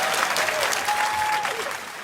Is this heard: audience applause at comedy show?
yes